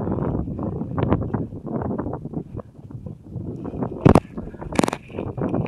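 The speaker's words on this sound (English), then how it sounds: "It's windy out here." Blustery wind buffets the microphone in low rumbling gusts, with a couple of sharper bursts of noise near the end.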